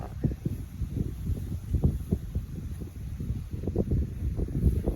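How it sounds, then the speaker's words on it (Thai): Cold wind blows across harvested rice fields in Surin, a steady low gusty rumble of buffeting on the microphone, rising and falling in uneven bursts without any voices. "ลมหนาวเริ่มมาแล้ว"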